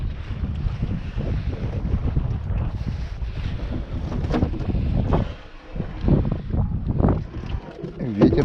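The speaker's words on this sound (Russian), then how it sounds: "Ветер что-то опять начал усиливаться." Gusty wind roars steadily over open water from a fishing boat on a cold summer day, buffeting the microphone with rough low rumbling and brief lulls, with faint talk now and then.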